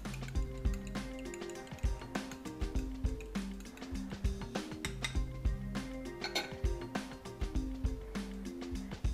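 Four eggs lightly beaten in a bowl, a fast continuous run of utensil clicks and taps against the bowl, close and fairly quiet, with no talking.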